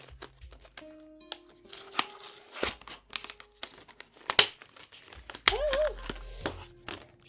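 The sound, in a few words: unwrapping plastic packaging of drawing pens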